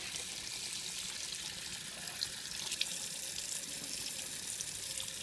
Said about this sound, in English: you turn on the sink very gentle and you just wash off